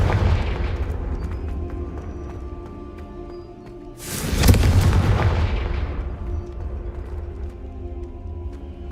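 A Confringo explosive spell in Hogwarts Legacy detonates with a deep, booming blast that swells and then rolls away in a long rumbling decay, heard up close over a low, steady game ambience with no speech.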